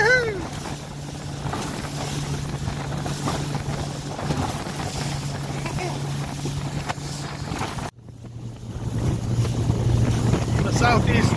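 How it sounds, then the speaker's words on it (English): Strong southwest wind roars across a sailboat at sea off Block Island, with whitecaps on the water, a loud constant rush of wind buffeting the microphone beneath a low steady engine hum, briefly cutting out before returning even stronger. "Here comes a southwest wind and the white caps."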